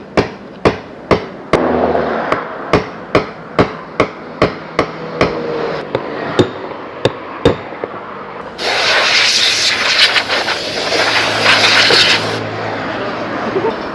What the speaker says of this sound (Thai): ตัวนี้ใช้วิธีตอกออกนะครับ